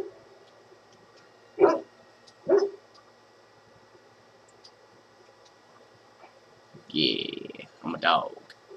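A dog barks in the Dragon Age: Origins video game, two short barks followed after a pause by two louder barks, close and clear against a faint steady background hum.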